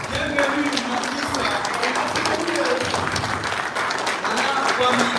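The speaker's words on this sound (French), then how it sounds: "please put your hands together" Audience applause at a public welcome event in Burkina Faso, a continuous dense clapping crowd with cheering voices and talk mixed through.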